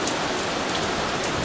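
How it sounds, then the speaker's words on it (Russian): Steady rain falling on a summer day at a rural homestead, a dense even hiss of drops without pause, loud and close as if heard from under shelter. "И дождь застал нас здесь."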